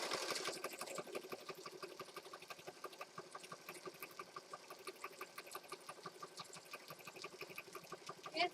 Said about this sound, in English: Now I'm just going to stitch on this side.